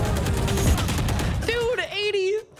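Video game shooter gunfire: a dense burst of rapid shots fills the first half, then fades under a person talking excitedly over the game.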